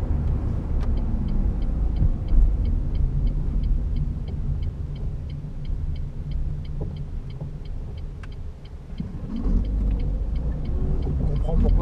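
A Renault Clio 3 TCe 100 petrol engine, 2008 Expression trim, hums as a steady low drone under cabin road rumble while driving, shifting gears around 2000 rpm, with a brief swell near the end.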